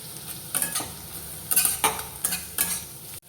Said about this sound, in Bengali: পেঁয়াজের সঙ্গে এটাও ভাজা হয়ে যাবে দেখো আমার পেঁয়াজ ক্যাপসিকামগুলো ভাজা হয়ে গেছে